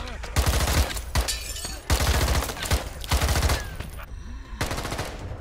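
An MP5 submachine gun fires in the zombie game Contagion, loud and close, in several rapid full-auto bursts separated by short pauses.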